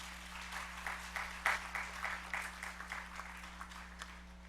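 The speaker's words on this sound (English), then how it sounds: "I ask you to give yourselves a round of applause" Graduates at a college graduation ceremony applaud themselves in a large hall, a rolling wave of clapping that swells and gradually fades, somewhat distant over a steady electrical hum.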